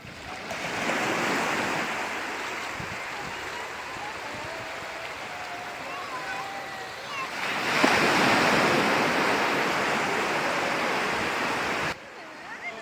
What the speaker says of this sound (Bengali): এখানে ভূমির সমুদ্রে এত মজা করছিল যে ও এই সমুদ্র থেকে উঠতেই চাইছিল না